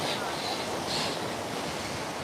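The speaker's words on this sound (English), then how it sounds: "The waves are pretty big now." Large waves wash on Lisi Lake in Tbilisi, Georgia, under strong wind, a loud unbroken surf roar mixed with wind buffeting the microphone.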